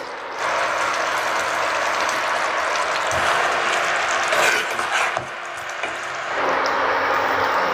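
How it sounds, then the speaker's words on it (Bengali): Fried onions (beresta) drop into a pan of coconut chicken, setting off a bright, steady sizzle close by that rises after a moment and then settles. "এবার আমি বেরেস্তাটা দিয়ে দিচ্ছি।"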